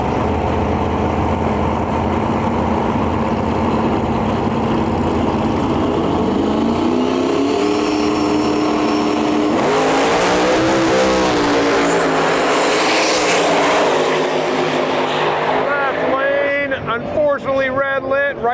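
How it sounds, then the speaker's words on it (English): Drag racing cars, a Firebird and a turbocharged Fox Body Mustang, roar down the strip in an elimination run, loud engine noise building and sweeping past over several seconds, with a commentator talking over it. "Firebird far side of the track. Turbo Mustang, Fox Body in our lane."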